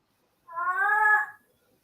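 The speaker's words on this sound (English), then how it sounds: "Oh, it's that cat." A cat gives a single clear, tonal meow lasting under a second, close and fairly loud against near silence.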